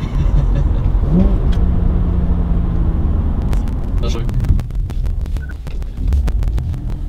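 Cabin-side intake sound of a BMW 330i with the N52B30 inline-six, fitted with a 130i sound generator, a steady low engine drone under rushing road and wind noise, with sharp clicks and taps later on.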